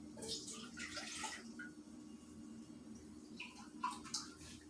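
Two cups of water run and splash steadily into a pan for a few seconds, fading briefly before a few louder splashes near the end.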